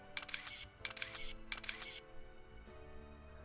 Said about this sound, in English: The shutter then makes a few snaps as it takes the photo.